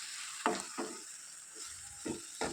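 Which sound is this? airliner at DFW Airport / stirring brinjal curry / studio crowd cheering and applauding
stirring brinjal curry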